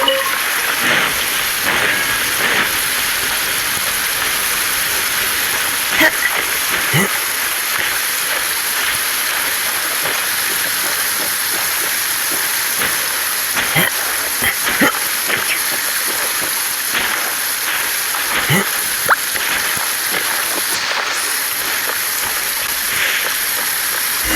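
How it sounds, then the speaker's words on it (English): Steady downpour rain in the video game Genshin Impact, a dense continuous hiss of falling water with scattered splashy ticks, loud and unbroken throughout. "Taking a stroll in the middle of a downpour certainly rouses the spirit."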